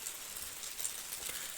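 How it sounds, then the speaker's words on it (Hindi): Heavy rain falls steadily in a hill village, a dense, even hiss with no distinct drops, fairly quiet and with no voices. "ये देखो झमाझम बारिश लगी हुई है"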